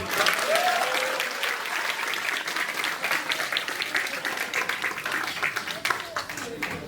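Audience applause at a pharmacovigilance week celebration event, a broad wash of many hands clapping that starts strong and gradually thins, with a voice faintly heard early on.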